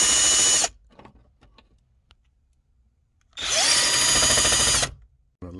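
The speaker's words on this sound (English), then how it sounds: "I'm gonna just go ahead and remove the screws." A power drill spins out screws from the dash trim of a Chevy Malibu while the climate control panel is being removed, with two loud, steady whirring bursts separated by a quiet gap.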